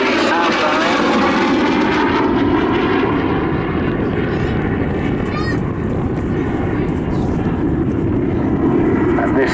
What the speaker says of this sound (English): A small chubby aircraft, single central air intake, a bubble cockpit and a very thin swept back